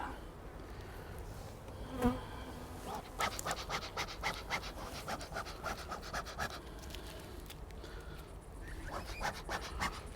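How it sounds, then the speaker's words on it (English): Honeybees buzz steadily around an open hive during an inspection, a dense close hum with scattered louder passes of individual bees and light scraping of hive parts. "One bee got upset about that."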